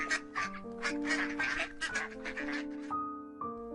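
Cartoon ducks at a farm pond give a rapid run of nasal, tonal quacks, some overlapping and some held, close and clear with no talking.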